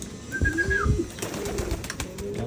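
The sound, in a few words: pigeons released for free flight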